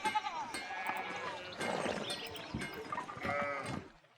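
Sheep bleating in the medieval video game Pentiment, several wavering calls overlapping one another, moderately close against a quiet background.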